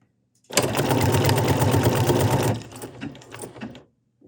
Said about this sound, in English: now I'm just going to stitch